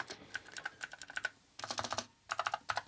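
Rapid, crisp clicking of typing on a mechanical keyboard built for an Amiga 1200, with gaming-style switches, close and clear in two quick bursts with a short pause.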